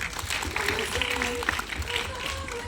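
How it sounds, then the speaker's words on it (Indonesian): Audience applause following a film discussion, steady clapping from a crowd underneath a talking voice throughout. "boleh kita berikan tepuk tangan."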